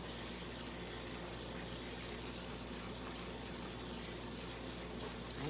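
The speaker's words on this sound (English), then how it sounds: "Gonna give them a really good rinse." Tap water runs steadily and fairly loudly throughout as items are rinsed under the stream, a continuous splashing flow with no talking.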